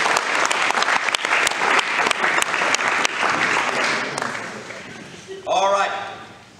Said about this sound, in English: So give Cade a round of applause here.